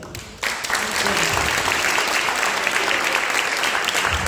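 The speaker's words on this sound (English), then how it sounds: "So another round of applause, please, for Mai and Tab and Ilan and Amy and Yogi" An audience at a community celebration at a Jewish community center breaks into loud, sustained applause that starts abruptly and continues as dense, even clapping.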